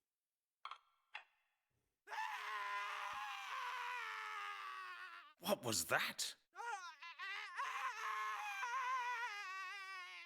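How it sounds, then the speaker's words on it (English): In a forest in the game The Mystery of the Druids, a person lets out a long, strained scream after a brief spoken question, then breaks into sobbing, wailing cries that carry on loudly to the end. "Somebody's screaming out there in the forest."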